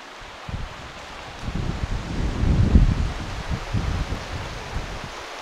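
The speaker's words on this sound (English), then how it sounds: "It is so windy." Strong wind gusts buffet the microphone outdoors near an old village abbey, a loud, rumbling roar that swells and fades over several seconds.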